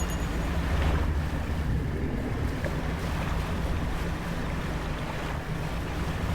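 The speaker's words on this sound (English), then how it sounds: "Clearly we need to be sailing around in the dark a bit more." A boat sailing over open water in the fishing game DREDGE at night, with a steady, loud wash of waves and wind rushing continuously against the hull, with no voices.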